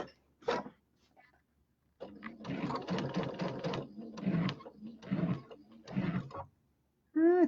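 A domestic sewing machine runs in short rhythmic bursts while quilting small pineapple quilt blocks, each run of rapid stitching stopping and starting close by, with brief pauses and fabric handling between.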